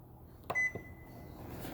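The control panel of a microwave oven with a bake mode beeps as its buttons are pressed: one clear electronic beep followed by a short softer tone, close by and otherwise quiet.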